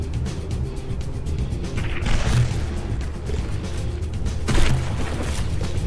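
Dull explosive booms and crashes from shells hitting a battleship in From The Depths rise over a constant rumbling game background, with a couple of heavier impacts standing out.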